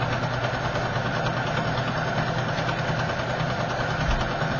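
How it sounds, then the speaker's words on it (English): A sewing machine running steadily while stitching a lettuce edge on stretch fabric, a continuous close motor hum and whir that holds even for several seconds, alone. "So let's start sewing, and I'll just stretch as I sew."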